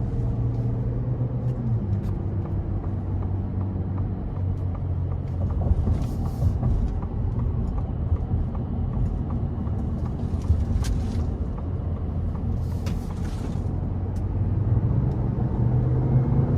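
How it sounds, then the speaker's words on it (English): A 2023 Lincoln Navigator Black Label with a 3.5 twin-turbo V6 in sport mode accelerating gently onto the interstate, a steady low engine and road drone heard from inside the cabin, with faint brief higher whooshes. "I'm gonna put it into sport mode now. And we're gonna get on the interstate, see how it accelerates."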